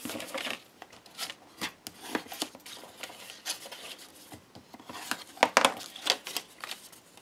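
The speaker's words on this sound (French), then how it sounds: "je vais plier les deux grands rectangles" Two large paper rectangles being folded for a small gift box, giving soft crisp rustles and creases in irregular bursts, close by, with one louder flurry of crinkling near the end.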